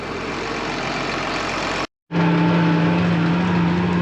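A tractor pulling a tool across a bumpy field runs as a steady, close engine drone, with a brief cut partway through, and no talk over it.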